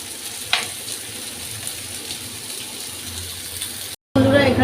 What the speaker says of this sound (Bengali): তো আলুগুলো কিছুক্ষণ আমি নাড়িয়ে চাড়িয়ে ভেজে দেবো।